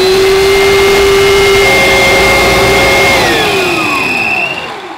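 Mattress vacuum cleaner with rotating beater brushes running steadily and loudly, a constant motor whine with shifting pitch tones that glide downward near the end, no talking.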